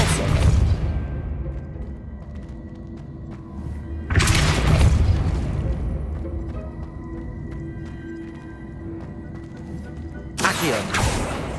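Depulso spell blasts in Hogwarts Legacy, three heavy booming impacts with a rushing burst that fade into rumbling echoes, spaced a few seconds apart, with faint game ambience in between.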